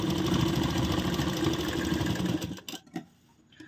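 A sewing machine stitches around a blouse sleeve in a steady, fast mechanical whir that runs close and loud, then slows and stops with a few brief bursts near the end.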